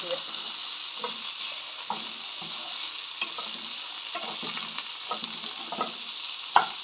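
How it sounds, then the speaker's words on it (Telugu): Chopped ivy gourd (dondakaya) sautéing in oil in a pan, giving a soft steady sizzle with repeated stirring clinks and scrapes from a spoon, fairly quiet and close, with no talking. "వీటిని సాట్ చేసుకుందాం."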